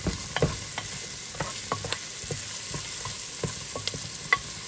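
Ingredients for samosas stir-frying in a pan with a little oil, steady low sizzle broken by repeated scraping and clacking strokes of a utensil at close range, no voices.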